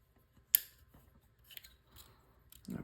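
The lanyard ring on a Leatherman Supertool 300 multi-tool folds shut with a single sharp metallic click, followed by a few faint handling taps.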